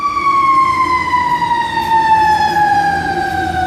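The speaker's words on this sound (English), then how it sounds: "you're going to get some sirens come through to try to stop what you're doing" A fire engine siren passes close and loud, a steady wail that holds and slowly drops in pitch, with the truck's engine rumbling underneath.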